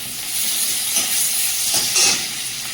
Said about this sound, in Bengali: তেলটা গরম হয়ে গেছে, পেঁয়াজ দিয়ে দেবো